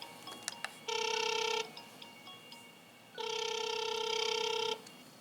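A phone-call ringing tone plays from the eLinkSmart WiFi camera app, two bursts of bright electronic ringing separated by a short pause, over faint room hiss and a few clicks.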